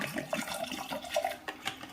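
Water splashes briefly in uneven gurgling bursts as it is poured into a pressure cooker over washed jackfruit seeds, heard close and fairly quiet.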